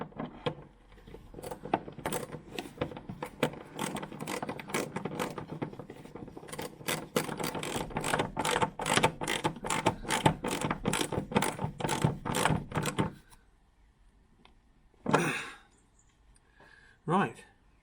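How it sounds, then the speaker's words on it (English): A ratchet wrench clicks in rapid repeated bursts while being turned underneath an Austin Allegro, the dense ratcheting running steadily for about thirteen seconds before stopping, followed by a couple of brief separate clanks. "Make sure the ratchet's in the right direction."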